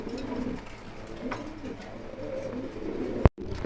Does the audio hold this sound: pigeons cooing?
yes